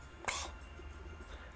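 A single short, close throat clearing, quick and breathy, followed by quiet room tone.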